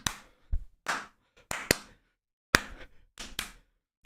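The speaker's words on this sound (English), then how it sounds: "okay, now we do the clapping part" Hands clap out a rhythm in a sparse, uneven pattern of sharp, close claps with brief gaps, alone without talk.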